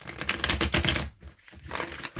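Tarot cards being shuffled by hand, a dense run of quick papery riffling and clicking that drops away briefly, then resumes more softly, close and alone without talk.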